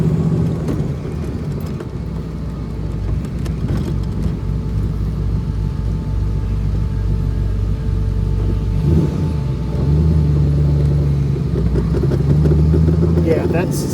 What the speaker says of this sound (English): That's drive shaft. It's the yoke hitting it.